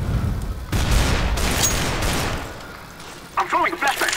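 Bursts of machine gun fire in a CS:GO competitive match, loud and dense early on, then fading under game noise, with a person talking near the end.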